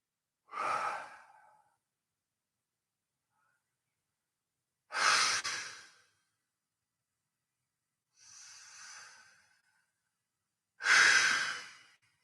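Four deep, slow breaths during a stretching exercise, each a long airy exhale or inhale spaced several seconds apart with silence between, close and fairly loud, no talking.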